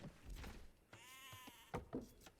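Sheep bleat in a real-time strategy game match: a long wavering bleat in the middle, surrounded by clicks, thuds and other game effects, with no clear talk over it.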